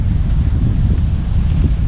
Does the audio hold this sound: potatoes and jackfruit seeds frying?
no